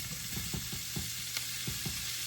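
Meat and hotdog sautéing in a pan for a creamy Filipino soup, a constant oily sizzle broken by repeated stirring scrapes and clinks of a utensil, close and steady, no voices.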